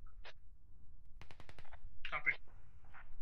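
Gunfire in the military shooter game Squad, a quick burst of several rapid automatic shots followed by a couple of separate cracks, fairly faint and distant, with a voice in between.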